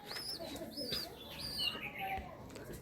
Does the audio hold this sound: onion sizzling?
no